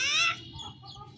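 A chicken gives a short, sharp cluck followed by softer clucking noises, close by with a faint low background.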